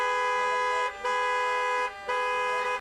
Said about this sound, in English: if this is what the street sounds like in a normal setting